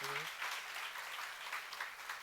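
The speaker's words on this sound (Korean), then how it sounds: "박수로 하나 더 해주세요." A church congregation claps during a sermon at a seminar. The applause is faint and steady, a soft even patter lasting about two seconds.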